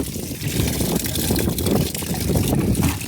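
Coolant drains from a VW Touran radiator in a steady, close splashing gush that keeps up throughout, with a trickling, uneven flow.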